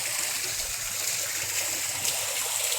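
Water flowing steadily near a dam at the source of the Indravati river, a continuous broadband rushing wash of stream water that stays even and close throughout, with no talk over it.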